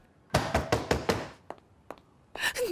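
Knocking on a wooden door: a fast run of five firm knocks, then a few lighter, scattered taps, followed by a brief rustle, close and clear in a quiet room.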